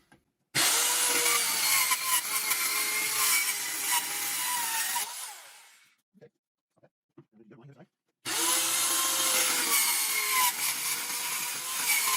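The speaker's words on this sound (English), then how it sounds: "this time I'm going to try using this saw" A handheld saw cuts a wooden 2x4 notch, a loud sustained rasping run of about five seconds, a short pause with light knocks, then cutting resumes loudly.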